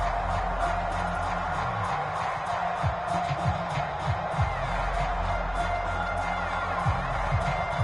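Home crowd at a football game in a video game, a steady stadium roar with mild swells of cheering, continuous and broad, with no clear peaks.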